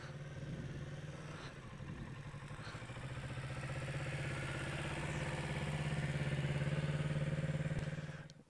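Motorcycle engine, a naked bike, turning at slow speed during riding practice: a steady low idle-like rumble with mechanical clatter, fairly constant and close, swelling slightly near the end before fading.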